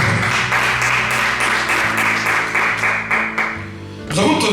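A church congregation applauds loudly together, a thick, continuous roar of clapping hands that carries on for several seconds before tapering off near the end.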